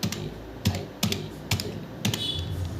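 Keys clack on a computer keyboard while an HTML title tag is typed, a handful of distinct, fairly loud keystrokes spaced roughly half a second apart, with no talking.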